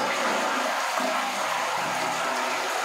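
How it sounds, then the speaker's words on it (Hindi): A flush tank on a toilet being flushed during a leak repair, water rushing out in a steady broadband whoosh that stays loud and close for the whole stretch. "देखिए अभी मैं फ्लश करूँगा"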